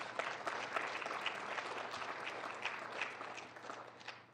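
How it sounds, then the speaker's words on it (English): An audience at a city council meeting in Warner Robins applauds, a soft, even patter of many hands heard from some distance, steady and unbroken for several seconds. "we'll probably get an applause for this one"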